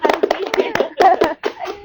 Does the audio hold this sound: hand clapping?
yes